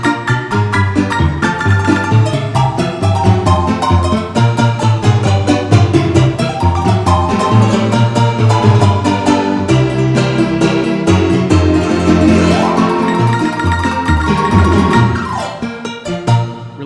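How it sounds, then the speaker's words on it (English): Honky-tonk piano voice on a Casio MZ-2000 keyboard, played as a dense, busy passage with full chords and a steady rhythmic left hand, loud and close throughout with no talking. "This one's the Honky Tonk 2."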